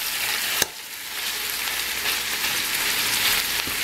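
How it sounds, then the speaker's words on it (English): Ground pork browning in a pan on medium heat makes a steady sizzle and crackle, with a brief clatter near the start as it is stirred, then continuous frying hiss with no talk. "Savannah is browning the meat."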